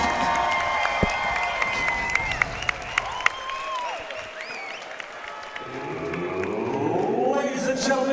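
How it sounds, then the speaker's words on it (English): A casino boxing crowd applauds and cheers after a bout, with sharp claps and shouts, voices calling out, and the noise swelling toward the end. "Give both of these warriors a round of applause."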